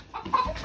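A chicken or rooster at a campsite gives a few short clucking calls, close and fairly loud, over light background noise.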